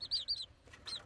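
Small bantam Brahma chicks with feathered feet peep and chirp indoors, three quick high calls in a row, a short pause, then another, soft and close.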